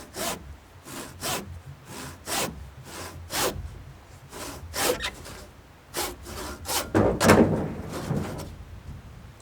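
A hand saw cuts timber for a trestle timber frame, giving a series of rhythmic rasping strokes, about a dozen in quick succession, close and fairly loud, with no voices.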